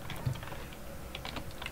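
Soft, quiet typing on a computer keyboard, a steady patter of light key taps close by with no voices.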